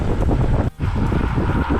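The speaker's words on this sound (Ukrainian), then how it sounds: "нас Черкаси зустрічають таким вітром лютим" A strong headwind blasts the microphone while cycling toward Cherkasy, Ukraine, making a loud, continuous buffeting rumble with one brief dip, and no voices.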